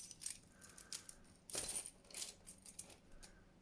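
A set of keys is put down onto a surface, with a short metallic clatter and jingle standing out near the middle among smaller taps and clinks close by.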